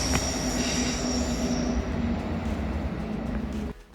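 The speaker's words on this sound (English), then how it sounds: "And now we have a fast train coming through." A South Western Railway train passes through Vauxhall station on the Southwest main line, its wheels giving a loud, sustained metallic squeal over rolling rumble that cuts off abruptly near the end.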